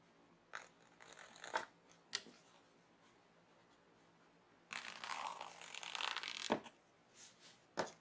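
A seam ripper snaps through the stitches of a pressed-open seam in quiet bursts, with sharp little clicks and a longer crisp tearing run in the middle, close and soft.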